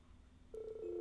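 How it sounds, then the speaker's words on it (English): A phone call ringing in the video game Trails of Cold Steel III, entering halfway through as a steady electronic ring tone that holds for about half a second and then shifts pitch, alone over quiet background. "we got a planned phone call with our friendly friends?"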